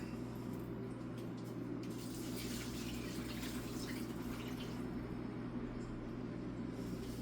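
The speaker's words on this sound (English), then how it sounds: "Now I'm going to measure out 4 cups of water." Water runs steadily from a tap into a measuring cup, a soft continuous pouring and splashing with a low hum underneath; no one speaks.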